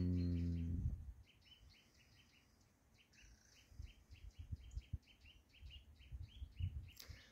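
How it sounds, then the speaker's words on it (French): A small bird sings outdoors in repeated short chirping phrases, fairly faint and distant over low wind and background rumble, after a brief low tone at the start. "il y avait le chant de l'oiseau, puis voilà, j'avais envie de vous le partager"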